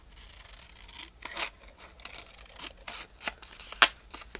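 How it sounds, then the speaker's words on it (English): Scissors snipping and rustling through paper in a quiet room, with scattered soft cuts and rubbing sounds and one sharper snip near the end, close by and without talk. "I'll cut this down a little more. If I can find my scissors."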